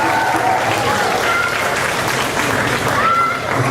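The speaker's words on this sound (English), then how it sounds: "So we can give yourself a round of applause." An audience at a youth conference gives a round of applause, steady dense clapping throughout with faint voices and scattered whoops mixed in.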